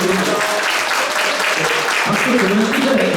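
Applause rises from the audience at a Korean briefing session on day-care services for disabled people, a steady wash of clapping with voices talking and calling out over it throughout.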